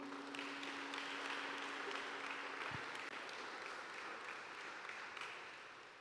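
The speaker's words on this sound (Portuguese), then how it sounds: "Aplauda o Senhor bem forte." A church congregation applauds together in a steady wash of clapping that fills the room, fading gently toward the end, with a brief distant voice in the background.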